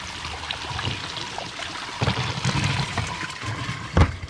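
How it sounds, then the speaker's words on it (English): Water running from a supply line into a full bucket, a steady rushing pour and trickle with occasional louder splashes, close and continuous. "Bucket is full and the water is jetting outside the top"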